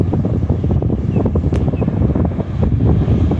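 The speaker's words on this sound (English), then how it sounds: "We already have a west wind," A west wind blows across a Volusia County beach, buffeting the microphone with a loud, continuous rumbling roar and surf faintly beneath.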